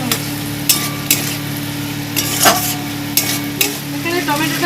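A tomato and salt mixture frying in a pan for a gandharaj prawn dish, with a close, steady sizzle and a series of sharp spatula knocks and scrapes as it is stirred.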